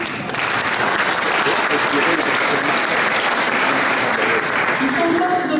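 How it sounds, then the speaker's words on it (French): Sustained audience applause fills the hall during the opening plenary of an ecologist political conference. It sounds like a steady, dense wash of many hands clapping at once, loud and continuous for the whole stretch after a brief quieter start. "Je crois que nous pouvons les saluer et les applaudir."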